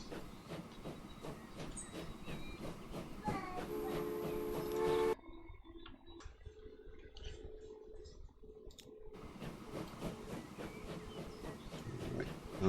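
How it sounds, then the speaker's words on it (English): A train leaves its depot in the video game Transport Fever 2, rolling out with rhythmic clicks and mechanical clatter under steady layered game sound, with a quieter stretch partway through. "it's emerging from the train depot"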